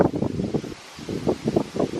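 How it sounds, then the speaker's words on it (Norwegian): Strong wind outdoors on an island, roaring against the microphone in low, rumbling gusts that swell and ease, with a brief lull midway. "I dag var det ganske mye vind"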